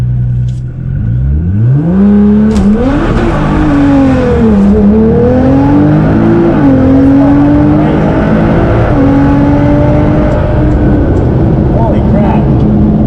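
A Nissan GT-R R35 does an all-wheel drive burnout at a drag strip, its engine revving hard and climbing in pitch with tires spinning, loud and close, with excited talk over it.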